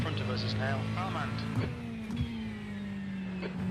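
IMSA racing cars drone through Road America in iRacing, a steady engine tone with a rising, shifting whine of nearby cars underneath, while a voice talks over it.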